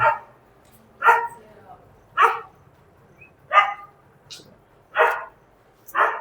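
A dog barking outdoors, six loud single barks spaced about a second apart, fairly clear against a quiet background.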